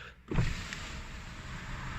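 Electric power window motor in a Ford Focus ST-Line, a short mechanical start then a steady hum as the glass moves, close up with no talk.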